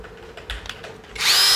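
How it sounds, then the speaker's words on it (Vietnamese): Cordless brushless-motor drill/driver with two speeds and 23 clutch settings spins up near the end, a loud steady high whine following a few faint clicks and handling taps. "Động cơ không chổi than này."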